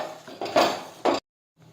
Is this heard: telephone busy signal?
no